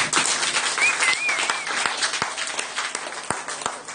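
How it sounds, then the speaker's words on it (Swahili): A church congregation bursts into applause, a dense wash of clapping that stays loud and steady throughout with no voices standing out above it. "naomba kwanza makofi makubwa kwa ajili ya Bwana Yesu"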